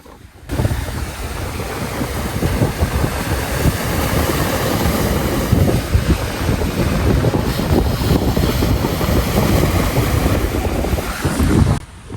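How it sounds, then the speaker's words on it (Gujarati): Steady rushing surf and waves wash continuously at Dumas Beach during the monsoon, mixed with gusty wind buffeting the microphone, with no voices. "તમે એકવાર આ પાણીનો અવાજ સાંભળો"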